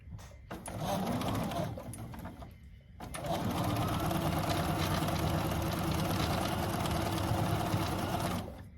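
A sewing machine stitches through cotton quilt fabric on a Tree of Life pre-cut quilt project, running in a steady close hum for about a second, pausing briefly, then running continuously for several seconds.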